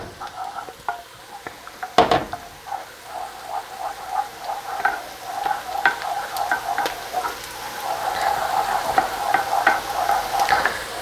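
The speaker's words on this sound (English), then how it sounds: "So keep stirring till it's all melted in." A utensil stirs butter as it melts in a very hot pan for cowboy butter, with a steady sizzle and repeated scraping strokes, a sharp clank near the start, and the frying growing denser toward the end.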